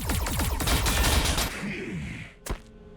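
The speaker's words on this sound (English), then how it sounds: "Firing on targets." Rapid gunfire from a battle in Warhammer 40,000: Battlesector comes as a dense, loud fusillade of overlapping shots for about a second and a half, then dies away, with one final sharp crack.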